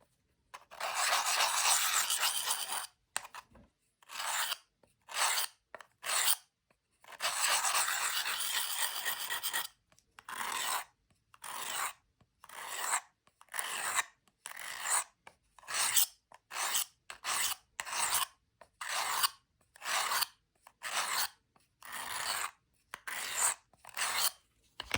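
A knife blade is ground on its left side during sharpening, with long rasping strokes at first, then many short quick scrapes separated by silence, close and clear.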